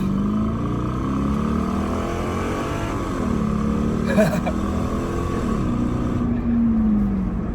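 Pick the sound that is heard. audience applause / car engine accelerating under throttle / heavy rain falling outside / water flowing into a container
car engine accelerating under throttle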